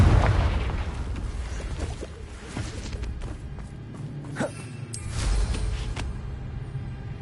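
A Confringo fire spell from the Hogwarts Legacy video game erupts in a loud, booming blast with a sharp burst near the middle, over steady in-game ambience and rumble, with no talking.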